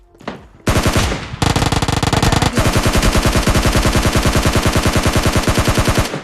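Rapid automatic gunfire in a battle royale video game, loud and sustained, with a short burst, then long unbroken strings of shots rattling in a fast, even rhythm.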